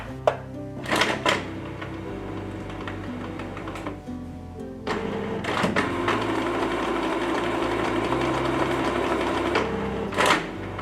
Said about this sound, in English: press OK button to start initial printer adjustments, which may take about 6 minutes to finish